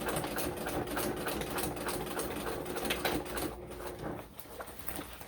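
A sewing machine runs steadily at close range, sewing small, short stitches in a fast even patter that slows briefly near the end, with no voices over it.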